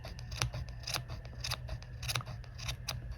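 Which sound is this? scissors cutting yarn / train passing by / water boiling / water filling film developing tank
scissors cutting yarn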